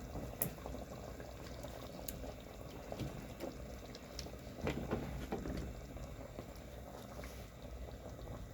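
Fish curry with drumstick simmering in boiling masala, a soft, steady bubbling and sizzling with occasional small pops and clinks, fairly faint and continuous with no voices.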